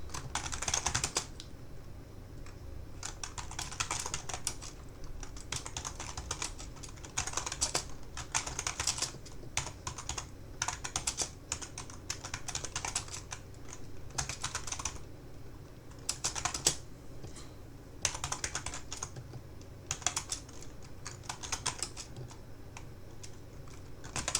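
Fingers type steadily on a computer keyboard, entering a prompt for AI 3D model generation: bursts of close, crisp key clicks with short pauses between them, alone without any talking.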